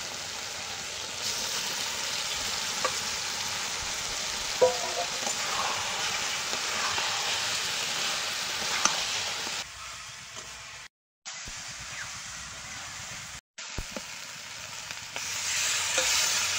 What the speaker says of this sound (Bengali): এবার ভেজে রাখা আলু আর কুচে মাছগুলো দিয়ে ভালো করে কষিয়ে নিই।